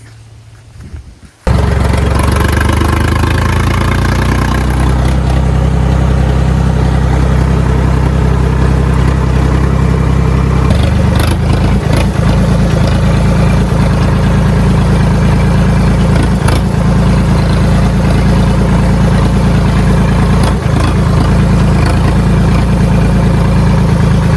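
A tractor engine idles steadily in a rural field where rice straw is being loaded, starting after a brief quiet moment and then droning on at close range with a constant low rumble and occasional knocks.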